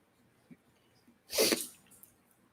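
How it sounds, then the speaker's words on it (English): A single sharp human sneeze bursts out loud and close in a quiet indoor room, preceded by a faint breath. "I gotta sneeze."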